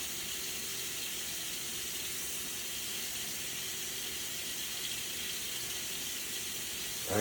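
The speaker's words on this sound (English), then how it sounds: "Now you got to fill the yogurt maker with warm water, 99 degrees." Tap water runs steadily into a yogurt maker, warming toward 99 degrees: a constant hissing flow with no pauses and no talk.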